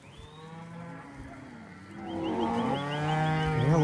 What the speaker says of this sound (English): Oh, these cows are ignorant. They do not want to go back down to the lower pasture.